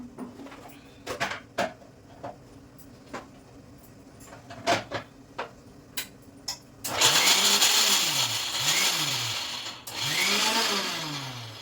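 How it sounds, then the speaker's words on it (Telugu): A mixer grinder blends ivy gourd chutney. First come several short clattering pulses, then a loud, steady motor whine that runs in two long bursts with a brief dip between them. "మిక్సీ వేసుకొస్తాం."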